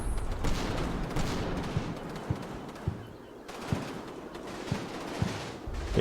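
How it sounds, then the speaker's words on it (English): Heavy machine gun fire in a World War II strategy war game, a run of dull regular thumps from fairly far off, spaced about half a second apart under a steady noisy battlefield rumble. "These guys are probably pinned by the heavy machine gun fire."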